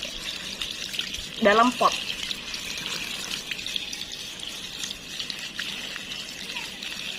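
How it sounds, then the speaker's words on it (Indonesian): Water poured over a potted aglaonema until the soil is soaked gives a steady hiss of watering, and a person speaks briefly over it. "Siram sampai benar-benar basah."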